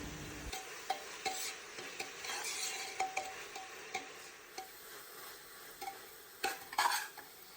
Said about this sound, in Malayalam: ഇനി ഇതിലേക്ക് നൈസായിട്ട് അരിഞ്ഞിട്ടുള്ള അരക്കിലോ ഉള്ളിയും കൂടി ചേർത്ത് കൊടുത്തിട്ട് അതും കൂടി ഒന്ന് വഴറ്റിയെടുക്കാം